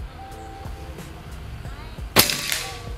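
A single sharp crack from a Predator Escobar semi-automatic PCP air rifle, fired outdoors as the sixth shot, loud and brief near the end after quieter background noise.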